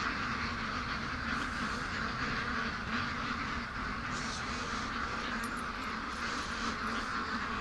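Muscovy ducks and geese on a farm call over a dense, steady outdoor wash of sound, with several brighter calls standing out in the second half.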